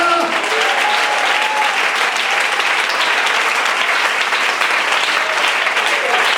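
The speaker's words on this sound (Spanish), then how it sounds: "Dele ese aplauso al Rey de Gloria." Sustained applause from a large church congregation at a baptism service, dense clapping filling the room, with a few voices calling out over it near the start.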